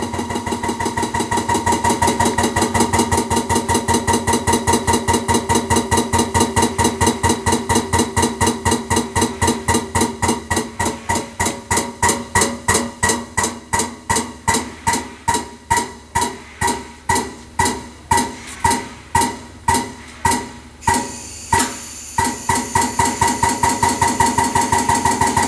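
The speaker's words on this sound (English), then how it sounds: "you can hear the pump starting to slow down as it builds pressure" Air-over-hydraulic pump on a US Filter 25 cubic foot filter press chugging steadily, its rapid pulsing stroke gradually slowing into distinct spaced thumps as pressure builds, loud and close with no talk.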